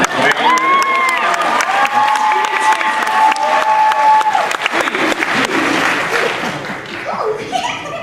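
Applause from a convention panel audience swells into sustained clapping mixed with cheers and laughter, while a voice speaks over the start.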